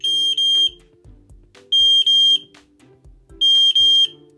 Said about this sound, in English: We're gonna get to see how loud this siren is.